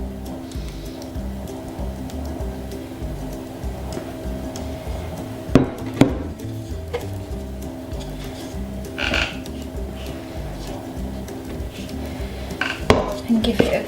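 A spoon stirring cherry jam into cake frosting in a bowl, a continuous soft scraping and rhythmic mixing close by, punctuated by a few sharp clinks of metal against the bowl.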